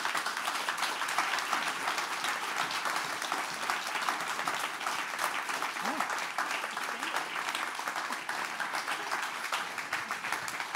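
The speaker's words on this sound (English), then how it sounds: "if everyone could just give our panelists one more round of applause" An audience at a panel discussion gives sustained applause, dense and steady clapping that continues at an even loudness from start to finish.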